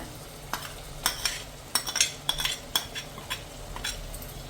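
A spoon scrapes and clinks against a pan as dry masala is stirred into tomatoes for a spicy goat head gravy, with irregular close taps over a steady low sizzle and no voices.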